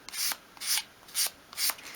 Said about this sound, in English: hold your sandpaper at a 45-degree angle and just sweep it along